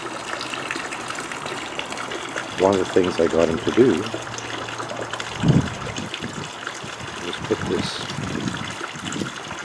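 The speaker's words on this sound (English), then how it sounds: "There's one spouting water into the pond" Steady rushing splash of water pouring from a frog-shaped faucet into a pond, continuous throughout, with someone talking over it.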